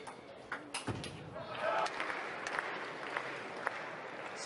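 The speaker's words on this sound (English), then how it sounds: "Clapping on Freitas to come back." Spectators clap at a men's table tennis match at the 2017 German Open, the applause faint and scattered behind a commentator's voice, with a few sharp ticks standing out.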